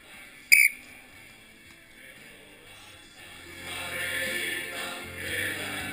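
Referee's whistle gives one short sharp blast during a snow floorball game, followed by quieter crowd and player noise outdoors.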